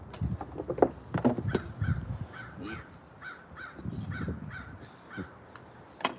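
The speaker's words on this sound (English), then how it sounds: "Hear Mr. Crow out there" A crow caws repeatedly outdoors in a regular series of hoarse calls at moderate distance, while wind blows and nearby knocking and scraping sounds from spoon carving come and go.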